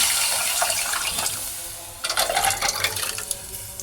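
Cooked, mashed lentils are poured into a pan, giving a soft liquid sloshing and splashing that builds into a louder, more broken pour after a short lull.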